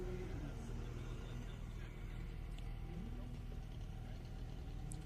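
A Toyota A90 Supra runs an autocross course, its engine a steady, continuous drone with a shifting pitch throughout, while a commentator talks over it.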